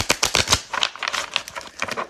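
A deck of cards shuffled close by, quick crisp riffling bursts and flicks in an uneven rhythm, fairly soft, with no talk over it.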